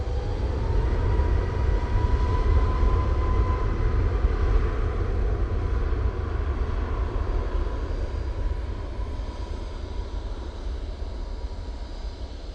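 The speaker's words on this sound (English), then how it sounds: "737 MAX 8 off to Vienna now" Boeing 737 MAX 8 jet departing Manchester Airport, a strong, low engine rumble with a thin whine, loud at first and slowly easing as the aircraft moves off, no talking.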